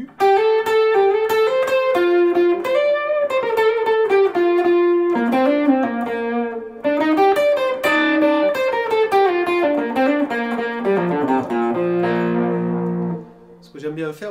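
Distorted electric guitar, a Forshage ergonomic model switched to its bridge pickup, plays a loud, close melodic run of sustained notes and bends, ending on a lower chord that rings out and fades.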